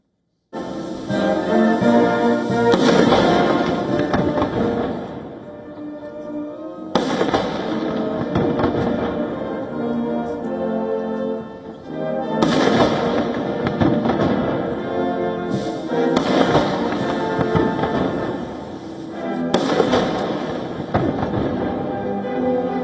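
Ceremonial cannon fire for a 21-gun salute honoring Trump and Xi Jinping in China, heavy booms arriving roughly every five or six seconds, each followed by a long rolling echo, with no speech.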